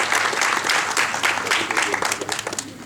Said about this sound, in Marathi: आपण सगळ्यांनी मिळून या टीमसाठी एकदा टाळ्या वाजवतो